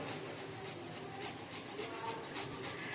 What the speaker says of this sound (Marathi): आपण आता याच्यामध्ये आलं खिसून टाकूया